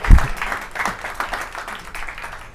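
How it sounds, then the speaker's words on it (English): Audience applause at an automation summit welcoming speaker Ed Husick, moderate clapping that starts with a thump and carries on evenly, with faint voices underneath. "A long round of applause for Ed Husick."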